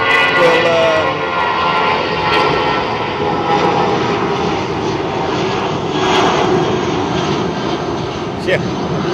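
A jet airliner departs London Heathrow on runway 27R, its engines a steady, loud broadband roar lasting throughout, with people talking faintly underneath.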